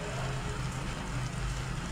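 Steady rain pours outdoors during a storm, a dense, even hiss of falling drops that holds at a constant moderate level with no voices.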